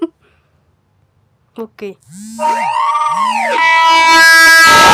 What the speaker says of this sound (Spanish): así suena esa alarma sísmica